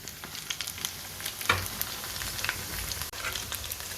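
Pakoras frying in hot oil in a pan, a steady close sizzle with crackling pops throughout and a brief louder burst midway.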